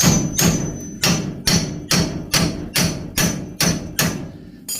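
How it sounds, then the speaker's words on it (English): Ten sharp metallic hammer blows strike a ball joint fork wedged under the ball joint of a 1965 Chevelle, in a steady, even rhythm, each ringing briefly before the next, close and loud. "you want to put that underneath the ball joint like that, and then pound it with your hammer"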